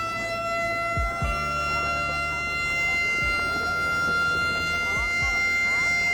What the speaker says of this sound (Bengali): লঞ্চ সাইরেন বাজিয়ে জানিয়ে দিল চরকুকরিমুকরি ঘাটে এসে পৌঁছে গেছি